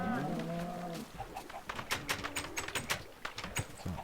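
Minecraft sheep and chickens: a sheep-like bleat and clucking mix with soft rapid clicking like keyboard taps, fairly faint and close.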